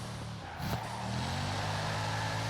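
Bugatti Chiron engine in Forza Horizon 4 revving and accelerating, a short dip followed by a steadily rising, loud, sustained engine tone with no talking.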